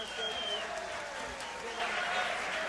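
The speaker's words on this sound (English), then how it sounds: "Ladies and gentlemen, a round of applause for his opponent this evening from Connecticut" A fight-night crowd applauds a boxer from Connecticut being introduced, the clapping and cheering steady and fairly loud while an announcer's voice carries over it.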